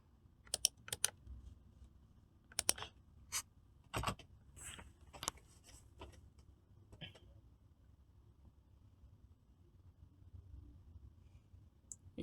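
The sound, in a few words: typing a command on a computer keyboard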